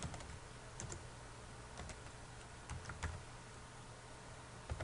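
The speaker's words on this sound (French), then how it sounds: "je vais taper localhost slash localhost slash mon site" Someone types on a computer keyboard at a steady pace, with light key clicks close but faint over a low background hiss.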